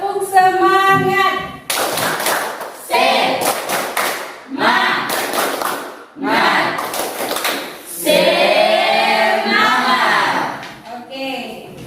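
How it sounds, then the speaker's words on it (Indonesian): A classroom group doing a 'tepuk semangat' clapping cheer, with bursts of rhythmic claps and thumps alternating with loud chanted voices of teacher and students, close and energetic. "Tepuk semangat."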